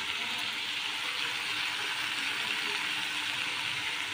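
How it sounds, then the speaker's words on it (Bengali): Potatoes and pointed gourd frying in a pan, a steady, even sizzling hiss with faint crackles throughout, close and unbroken with no talking. "তার জন্য আগে এই দুটোকে ভালো করে ফ্রাই করে নিচ্ছি"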